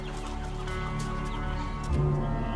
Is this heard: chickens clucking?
yes